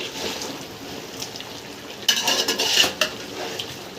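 Chicken boils in a pot for a biryani, giving a steady hissing, bubbling simmer punctuated by metallic clinks of a utensil against the pot, close and moderately loud.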